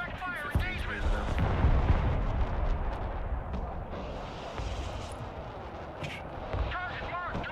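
Artillery direct fire in the video game Broken Arrow: heavy, rumbling booms and blasts roll through the mix over a continuous battle din, with someone talking over it.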